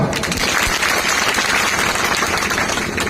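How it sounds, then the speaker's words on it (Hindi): Audience at a Gondwana community gathering breaks into dense, sustained applause, many hands clapping steadily and loudly at close range for the full stretch with no pauses. "तो तैयार हो तो ताली बजाओ"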